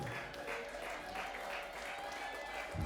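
Church congregation at a Sunday service applauding, a continuous wash of many hands clapping at low level, with voices audible beneath it.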